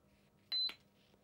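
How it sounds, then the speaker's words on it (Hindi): A quiz-show buzzer pressed during a Hindi quiz final round, one short electronic beep that stands out sharply against a quiet room. "यमुना ने तुरंत बजर दबाया"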